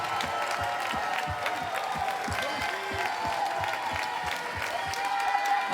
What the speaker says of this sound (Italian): quindi l'applauso ancora una volta a tutti loro